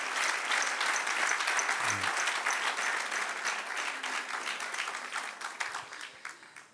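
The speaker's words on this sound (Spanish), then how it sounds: "Den otro aplauso al Rey." A congregation at a church history class in Spanish applauds steadily, a warm crowd clapping that slowly tapers off, with a brief low thump partway through.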